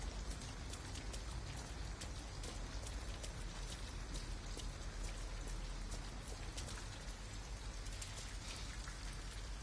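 Steady rainfall in the video game Detroit: Become Human, a dense, even hiss of drops pattering on surfaces with scattered sharper drips, continuous and unbroken with no talk.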